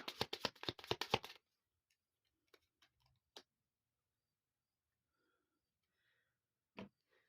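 Lenormand oracle cards are shuffled in a quick burst of dense riffling flicks, followed by a few soft, isolated taps as cards are drawn and laid down in a quiet room.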